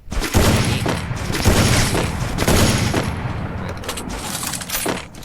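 Dense, rapid gunfire from the battle royale game Free Fire, loud and near, with overlapping shots and booming impacts running continuously across the whole stretch.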